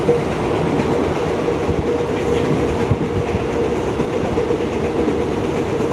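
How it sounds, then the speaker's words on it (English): A train rumbles past loudly and steadily, a dense continuous roar with faint clattering of wheels on the rails. "There goes another train."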